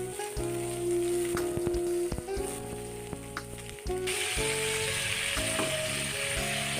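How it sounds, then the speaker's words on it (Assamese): Pork pieces frying in a hot wok over low to medium heat, a steady close sizzle with a few stirring clatters, growing into a louder, brighter hiss partway through. "এতিয়া মই ইয়াত গাহৰি মাংসখিনি দি দিছোঁ।"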